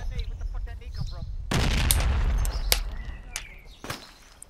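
A grenade blows up in a video game shooter: a sudden loud, broad burst that rumbles for about a second, with sharp gunshot cracks after it and a voice talking at the start.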